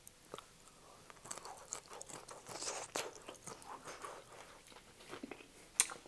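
Fried potatoes seasoned with salt, black pepper and chili powder are chewed up close, giving quiet, irregular crunching and mouth sounds with no talk.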